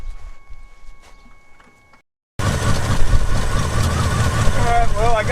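A truck engine running on gasoline poured into the carburetor: after a faint, quiet stretch and a moment of silence, a loud, rough, steady engine roar kicks in with a person talking over it.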